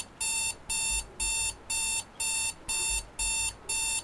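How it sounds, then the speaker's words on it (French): An alarm clock rings in repeated bursts of bright electronic beeping, about eight evenly spaced pulses, loud and close with short gaps between them. "chut le réveil là"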